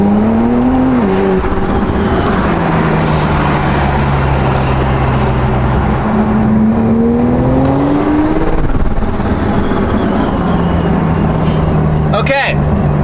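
A Porsche Turbo S accelerates while being driven, its engine note climbing through the gears under steady road and tire roar, with a voice talking over part of it.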